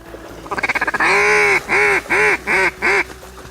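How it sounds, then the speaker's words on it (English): A mallard duck call sounds a quick run of short quacks, then four or five drawn-out, loud quacks in an evenly spaced descending sequence. "So in Florida, this is my mallard call."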